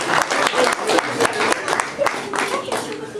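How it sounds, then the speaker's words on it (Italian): Church congregation claps for the children in a short burst of lively, uneven applause, with a voice audible beneath the clapping. "E un altro applauso per i bambini."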